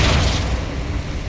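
Flipendo spell cast in the game Hogwarts Legacy, a single loud boom-like burst with a thick rumbling low end that decays over about a second.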